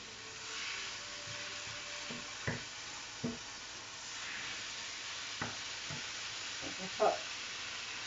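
Bolognese sauce sizzles in a pan with a soft steady hiss, broken by a few brief scrapes and clinks as it is stirred.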